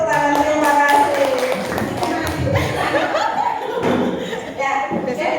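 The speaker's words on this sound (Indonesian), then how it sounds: "Oke, tepuk tangan, terima kasih." Audience clapping and light laughter in a school hall during a positive-school-culture session, a burst of applause with thumps and chuckles mixed in, plus talk over it.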